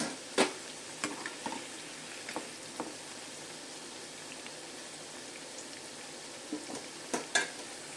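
Amla gooseberries frying in oil for a pickle give a soft, steady sizzle with scattered crackles and pops, fairly faint and with no voices.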